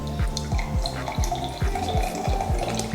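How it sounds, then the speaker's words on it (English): Chocolate-flavored coconut water is poured steadily into a glass, a continuous liquid splash with gurgling glugs repeating every half second or so, close and alone without talk. "I don't know how much I'm supposed to pour, but I'm gonna keep it going."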